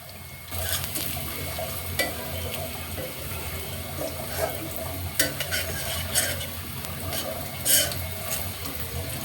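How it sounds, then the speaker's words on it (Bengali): Garlic sizzles and fries in a pan while a spoon stirs it, with steady crackling frying noise broken by repeated scraping stir strokes; red amaranth greens are being cooked in the same dish. "এখন সুন্দর করে নাড়াচাড়া নাড়াচাড়া নাড়াচাড়া করে দিব"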